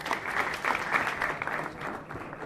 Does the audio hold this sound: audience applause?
yes